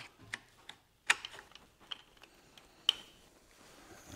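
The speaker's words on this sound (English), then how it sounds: "Let's put that throttle on." Throttle assembly being fitted to a 1960s Yamaha motorcycle during a restoration, giving a series of faint close clicks and small metallic snaps in a quiet room, with a sharper clack near the middle.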